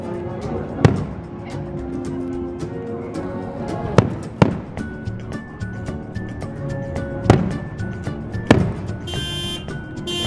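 Scattered Fourth of July firework bangs pop at irregular intervals, a few sharp cracks over a murmuring outdoor crowd with a faint car alarm tone in the background.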